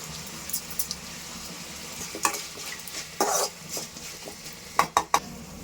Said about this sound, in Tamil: தக்காளி போட்டுக்கலாங்க. பச்சை மிளகாய், கல்லுப்பு போட்டுக்கலாங்க.